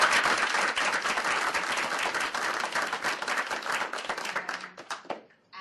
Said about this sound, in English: if you could all please give them a hand of applause